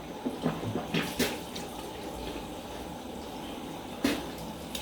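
Water splashes softly as hands wash the head and face, with a few light splashes early on and one more near the end over a steady trickle.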